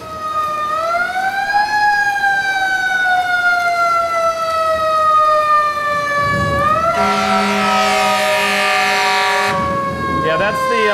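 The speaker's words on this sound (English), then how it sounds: "that's the not kidding around siren" A fire truck siren wails loud and close in downtown Brattleboro, sweeping slowly up and down before switching to a harsh rapid yelp and blasts of air horn, with voices talking underneath.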